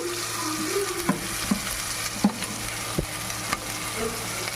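Coriander, curry leaves and ginger garlic paste sizzle steadily in hot oil while a spoon taps the pan about five times at an even pace, close and with no voices.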